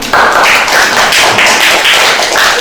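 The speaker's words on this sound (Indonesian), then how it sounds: "Kita kasih aplaus untuk kelompok 3." A classroom of students gives a student group a burst of loud, dense applause, with many hands clapping close together for a few seconds.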